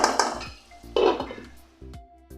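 A metal lid goes onto a cooking pot on a low flame, with a few sharp clanks and clinks of metal on metal close by, separated by short quiet gaps.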